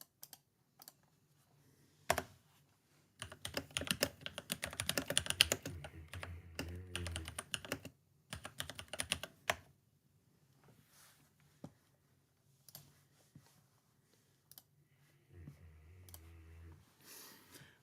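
Clicking and typing on a computer keyboard in a quiet room, irregular bursts of fast keystrokes and scattered single clicks, close and fairly soft, with a low hum near the end.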